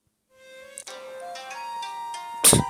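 A telephone ringtone plays a bright, stepped electronic melody of sustained tones, moderately loud and alone, ending in a sudden louder burst of noise.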